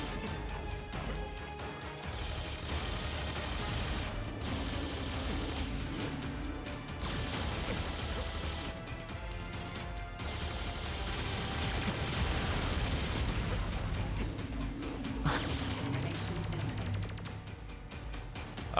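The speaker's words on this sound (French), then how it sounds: "Homing plasma activated. Ah, elle est mortelle cette arme." Homing plasma weapon fire in the 2D action game Terminator 2D No Fate: dense, continuous bursts of crashing shots and impacts over game music, loud and sustained with brief gaps.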